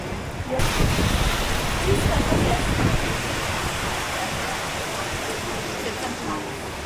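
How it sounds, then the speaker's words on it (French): Heavy pouring rain during a motorcycle trip near Vienne, a dense, steady roar of hiss that stays loud throughout. "Je sais pas si on voit bien à la caméra comment il pleut à verse."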